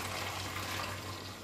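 Water poured into a pot of meatballs in tomato sauce, a soft continuous gushing splash held at a steady level that tapers slightly at the end, heard alone.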